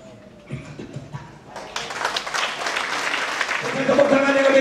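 A church congregation breaks into applause after a quiet moment, the clapping building into a dense, sustained roar of many hands that grows louder toward the end.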